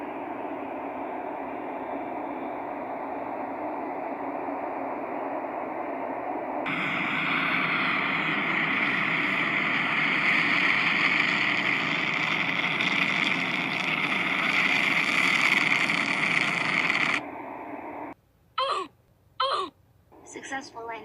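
A cartoon spaceship comes in to land with a steady engine drone that thickens into a louder, brighter roar, holds, then cuts off, followed by a few short clipped sounds.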